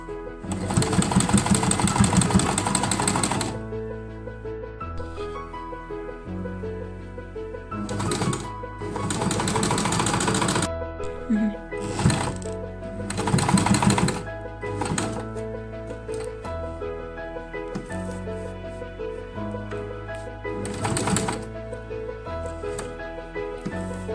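Industrial sewing machine topstitching a pocket onto a garment along all its sides, running in several loud bursts of rapid stitching separated by pauses with quieter handling sounds.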